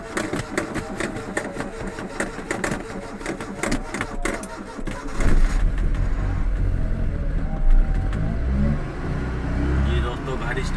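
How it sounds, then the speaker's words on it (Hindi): A car engine that has just started warms up at idle, a steady low rumble with rattly clatter, while someone talks over it through the first half and the engine note grows louder and fuller later. "जी तो दोस्तों, फाइनली मैंने गाड़ी स्टार्ट कर ली है।"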